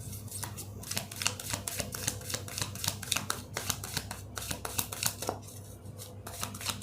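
Tarot cards being shuffled close up, a steady run of quick papery riffles and flicks with no talking.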